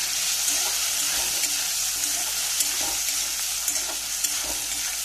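Taro pieces seasoned with salt and turmeric powder fry in a pan with a continuous hiss and crackle, stirred now and then, loud and close with no speech.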